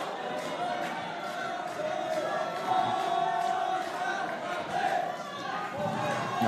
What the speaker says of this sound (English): The crowd trying to get Jack Flatley going again